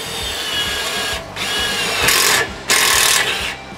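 A Makita power drill whirs loudly in bursts, pitch rising as a self-drilling screw bites into 3 mm steel, with brief pauses between runs.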